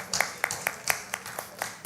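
Faint, evenly spaced hand claps at a principals' training livestream event, about eight sharp claps in a steady rhythm with no voices over them.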